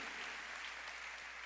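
Church congregation clapping in praise during a sermon, a continuous, even patter of many hands that stays moderately loud and unbroken throughout.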